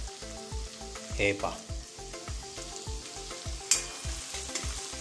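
Cumin and coriander powder sizzle as they hit frying capsicum in a Maharashtrian shimla mirchi bhaji, a steady close crackle with rhythmic stirring thumps from a spoon in the pan and a brief spoken word over it.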